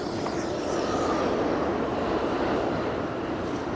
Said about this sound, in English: That sounds like an R179 subway car, the newest line of subway cars by New York City Transit.